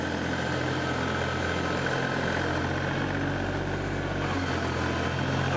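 A small Kioti compact tractor engine idles steadily with a low, constant rumble and rattle, running close by for the whole stretch without any talking.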